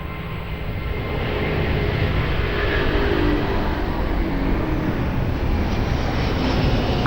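A Ryanair airliner on approach to runway 02 at Lisbon Airport produces a loud, continuous engine roar that swells slightly and holds steady, with no voices.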